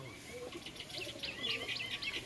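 A released pair of pigeons calls and flutters, with repeated chirpy bird notes and brief wingbeat bursts over a faint background hiss, moderately close and quiet.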